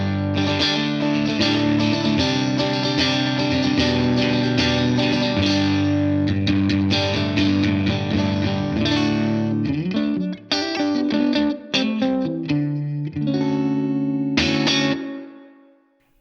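Electric guitar played through a Blackstar St. James EL34H valve amp switched to its lower-power sag mode, giving steady, loud chords and riffs with a slightly compressed, spongy feel, ringing out alone before fading at the end.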